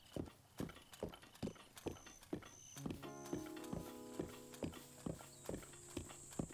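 Horse hooves clip-clop steadily in Breath of the Wild, a regular galloping rhythm of sharp thuds carrying on throughout, with music and chimes rising partway through.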